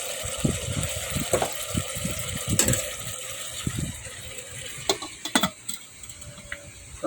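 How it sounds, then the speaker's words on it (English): A pot of healthy home-cooked food simmers on the stove, soft bubbling and irregular small pops and gurgles rising over a low, steady hiss. "So we'll let it simmer."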